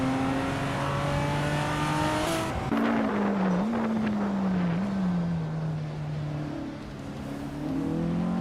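Race car engines in a racing video game whine loudly and steadily, their pitch climbing and dropping through gear shifts, with several cars overlapping throughout.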